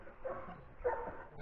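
A pack of Fila Brasileiro dogs and mixed-breed mutts in a yard gives muffled, somewhat distant barks and yips in two bursts.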